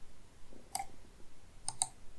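A few faint mouse clicks sound close by, one single click followed by a quick double click, over quiet background.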